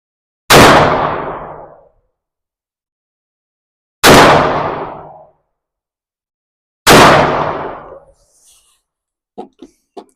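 A 10 millimeter pistol fires Barrier Busters rounds: three loud, sharp shots, each with a decaying ring, spaced a few seconds apart, followed by faint clicks and handling noise.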